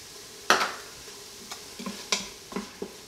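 Garlic sautéing in an Instant Pot for white chicken chili, heard as a few short scraping stirs and soft sizzles, close and fairly quiet, with no talking.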